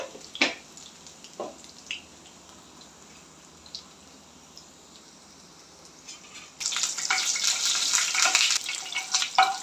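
Garlic, cumin and mustard seeds frying in hot oil for stuffed okra, a faint crackle with a few sharp pops that swells into a loud, steady sizzle partway through.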